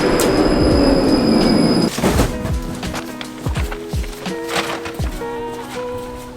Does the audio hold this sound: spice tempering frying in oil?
no